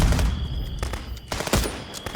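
Repeated gunfire in the game Contraband Police, several sharp shots at uneven intervals over a busy, noisy background, fairly close.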